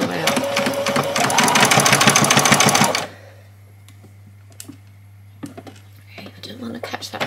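Sewing machine stitching a doll's dress, running in a fast steady burst for about three seconds, then stopping; quiet handling noises and a voice follow.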